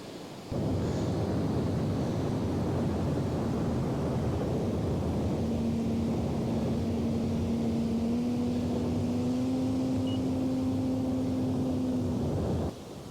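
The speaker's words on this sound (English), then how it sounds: "She's a beautiful plane to fly" A small FMS Pitts 1400mm RC aerobatic plane's engine drones steadily, its pitch rising into a sustained whine as it passes close by, then cutting off abruptly.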